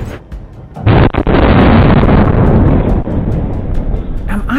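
Tank cannon fired point blank at a torso target, a single huge blast that erupts suddenly, close and overwhelmingly loud, then a long roaring rumble that slowly fades, preceded by brief talk.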